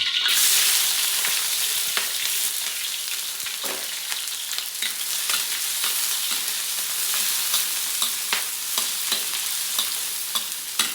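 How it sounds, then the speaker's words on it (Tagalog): Onion and garlic frying in hot cooking oil for pork pata kare-kare, a loud steady sizzle throughout with scattered stirring scrapes, close up and without talk. "Lagay na natin ang sibuyas, bawang, pagsabay na yan."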